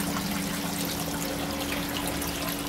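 Water pours and trickles steadily into an aquaponics grow bed as it fills toward the siphon, a constant close, even splashing flow with no break.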